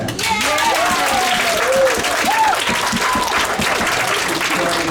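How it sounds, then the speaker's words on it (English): Audience applause at a P-BVUSD school district board meeting: steady, loud clapping from a crowd lasting throughout, with voices calling and cheering over it. "Ladies and gentlemen, I didn't do that for a round of applause"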